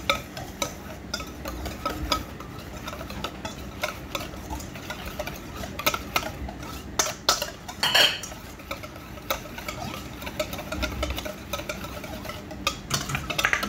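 Grilled chicken being tossed and mixed with squeezed lemon and soy sauce in a bowl, giving steady clinks of utensils against dishware with stirring scrapes throughout, close and moderately loud with no talking.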